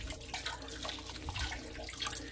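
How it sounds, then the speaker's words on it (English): Water gushes steadily from the drain of a household water heater being flushed, a continuous splashing rush with bubbling texture and no talk. "The water's still coming out hot"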